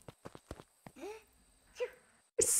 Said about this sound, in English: It's so cute. Look at that sneeze.